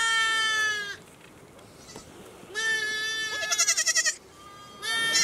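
Sheep in a shed holding six hundred animals in a Nepal forest bleat in three loud, wavering bursts separated by short quiet gaps, the middle burst ending in a quick rhythmic stutter.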